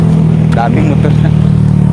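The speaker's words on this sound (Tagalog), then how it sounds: "Daming motor na." Motorcycles and cars rumble past on a road in Pangasinan, Philippines, a steady close engine drone with revving swells, heard under nearby voices.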